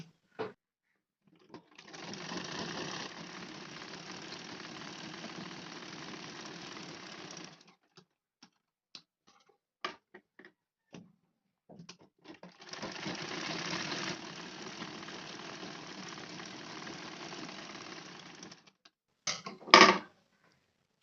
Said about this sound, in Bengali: এখন এই পাশে সেলাইটা করে দেখাবো